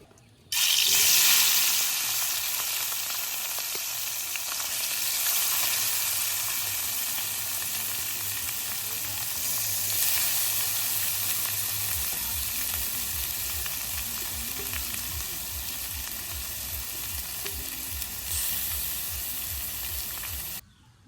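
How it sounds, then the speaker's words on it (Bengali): Small river fish dropped into hot oil with spices, giving a loud, bright, continuous frying sizzle that holds steady for about twenty seconds, with a low rhythmic bubbling underneath in the later half. "তেলটা গরম হয়ে গেছে গা তেলে মশলা মাহানি মাছটা দিয়ে দিই"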